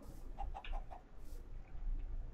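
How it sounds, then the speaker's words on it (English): A Minecraft chicken clucks in a short run of quick, bright pecking calls, moderately close and fairly quiet, with no one speaking. "there's a chicken"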